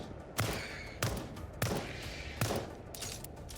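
Gunfire in the game Lost Skies: four heavy shots spaced about half a second to a second apart, each with a punchy thump and a sharp crack over a steady background rumble, fairly close, with no talk.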